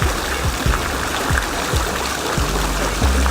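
Water flows in a market fountain, a continuous rushing splash close by with a few low thuds and knocks mixed in.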